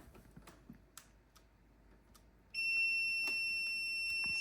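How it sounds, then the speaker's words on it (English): Scattered soft clicks and taps, then a handheld thermal camera's loud continuous high-pitched electronic alarm tone starts midway and holds steady to the end. "So it is giving an alarm,"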